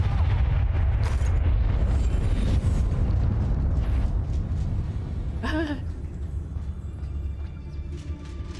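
Spell explosions in Hogwarts Legacy, Incendio and Bombarda blasts, make a continuous heavy rumbling boom that fades slightly, with a quick rising whoosh cutting through midway.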